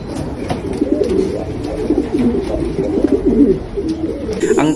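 A racing pigeon in a loft coos steadily at close range, soft repeated throaty calls in a running rhythm, with no voices.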